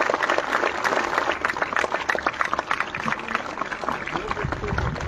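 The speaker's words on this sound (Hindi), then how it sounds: "एक बार जोरदार तालियां बजाएं बेटा" Loud, dense clapping from a large crowd of students cheering their sports teachers at a school sports gathering, continuous and vigorous throughout, with some voices mixed in.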